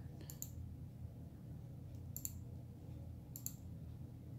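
Three sharp, light clicks spaced a second or more apart from pressing a button to open the menu on an LG smart TV, set against a low, steady room hum.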